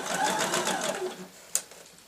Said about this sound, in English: Do a few stitches backwards to secure.